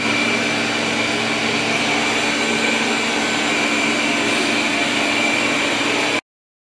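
A Roborock S8 Pro Ultra robot vacuum runs at its highest suction setting, a loud steady whine and rush that holds unchanged close by, then cuts off abruptly.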